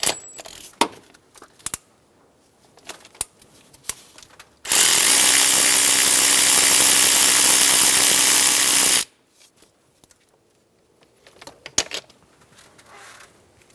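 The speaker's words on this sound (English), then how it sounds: "Using a 12mm socket, remove the nut for the gas line bracket." A 12mm socket on a power tool spins a nut off the gas line bracket of a 2003-2008 Honda Pilot in one loud, sustained burst of about four seconds, framed by light metallic clinks before and after.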